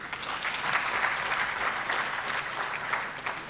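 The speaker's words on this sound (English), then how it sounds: "Shall we all clap for the graduates?" Steady audience applause at a graduation ceremony for the class of 2023 graduates, a dense continuous clapping that holds at an even level for the whole stretch with no talking.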